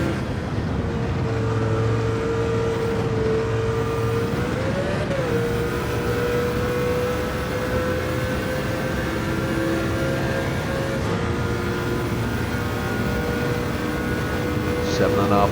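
Mercedes CLK LM 98 race car engine lapping Spa in Gran Turismo 7, a continuous high-pitched whine held near steady with a brief pitch rise and drop early on, loud and unbroken throughout.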